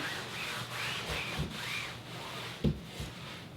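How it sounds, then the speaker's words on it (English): Soft, repeated rubbing strokes of a cloth wiping across a canvas, with a sharp tap partway through. "use the cloth and wipe over it one more time"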